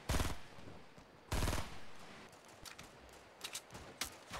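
Sniper fire in Fortnite Battle Royale on Xbox One X, with two loud sharp shots about a second apart, then a spread of fainter, clattering distant gunfire.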